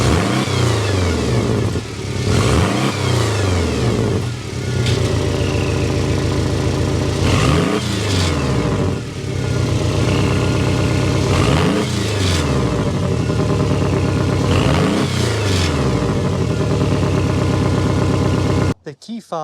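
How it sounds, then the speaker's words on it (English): A 2025 Porsche 718 Cayman engine starts and revs repeatedly, loud and close, each rev rising and falling in a throaty exhaust roar before cutting off at the end. "start it up, so you can hear that exhaust note"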